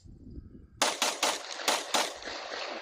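Rapid pistol shots from a Gen 5 Glock 19 carry gun fitted with a Trijicon SRO sight and Radian Ramjet and Afterburner parts, about five sharp, close bangs in quick succession at an outdoor range.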